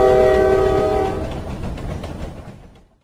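Train horn blares with tonal bands, then fades into a rolling rail rumble, loud and alone, as a sound cue in an Android alphabet learning game for children.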